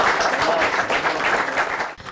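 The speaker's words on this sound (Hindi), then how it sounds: "तालियां रुकनी नहीं चाहिए।" Continuous applause from an audience cheering a farmer quiz-show winner, a steady wash of many clapping hands held at an even level before cutting off abruptly near the end.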